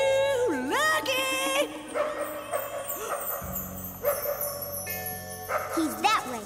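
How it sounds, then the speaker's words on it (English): A cartoon dog barks and yips several times in an animated children's show, the barks mixed under lively background music with whimpering pitch slides. "That barking could have come from anywhere."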